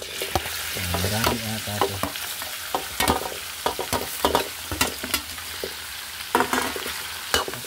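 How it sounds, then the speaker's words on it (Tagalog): Chopped leftover roast lechon head is sautéed with garlic and onion in a hot pan, giving a crackling sizzle broken by repeated scraping stirs and clacks of the spatula; a voice briefly speaks. "Ilagay na po natin yung hiniwa natin ulo ng lechon."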